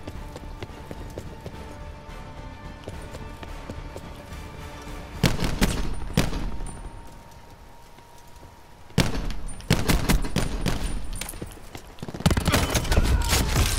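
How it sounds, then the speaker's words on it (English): Auger weapon firing in a Call of Duty: Black Ops 4 free-for-all match, loud rapid bursts of shots arriving in three separate volleys over steady background game noise. "I shot him with the auger like twice and then just killed him with a launch."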